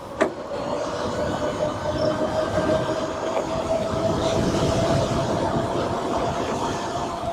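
Luna X2.5 Enduro Extreme 60V electric bike cruising on throttle around 30 mph in trail mode, a steady motor whine with a sustained tone over constant wind and road rush, close and continuous with no talking.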